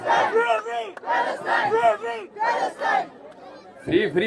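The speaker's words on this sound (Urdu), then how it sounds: "فری پاکستان کے نعرے لگائیں نا." Rally crowd at a Save Gaza protest in D-Chowk, Islamabad chanting Free Pakistan slogans in loud, rhythmic call-and-response bursts, with a brief pause before a final shout.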